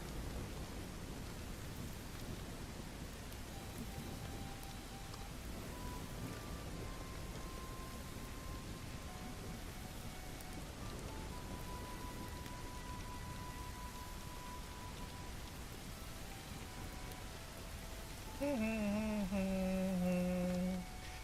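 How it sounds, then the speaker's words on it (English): Rain from the video game Bellwright, a steady, hissing downpour that fills the whole stretch evenly, with soft tonal game sounds drifting faintly underneath and a brighter chime-like tone rising near the end. "That rain effect is super loud."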